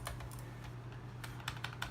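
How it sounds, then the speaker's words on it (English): Keys clatter on the full-size rubber dome keyboard of a Macintosh PowerBook 165 laptop, a run of soft, close, irregular taps with a few sharper strokes near the end, alone over a low steady hum. "full-size rubber dome style keyboard, which, yeah, it's kind of meta type on"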